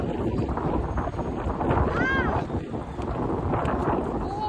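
Strong wind buffets the microphone outdoors, a dense rushing roar that stays loud and continuous while a voice and brief exclamations break through over it.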